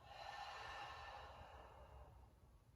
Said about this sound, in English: Take 3 breaths in through your nose and open mouth exhale.